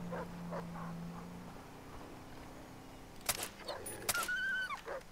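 Dog attack in the video game Far Cry 3: several quiet yips and whimpers at first, then a sharper burst of snarling, yelping cries and clatter over game ambience, with no talking.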